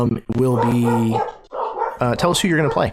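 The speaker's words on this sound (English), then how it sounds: "pardon the dogs" Dogs bark and yip loudly in short bursts at home, overlapping and interrupting a person talking nearby.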